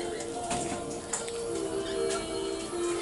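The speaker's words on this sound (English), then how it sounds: "And this is our..." Princess parrots give soft, low calls and chirps close by in an aviary, a few brief sounds over a quiet background.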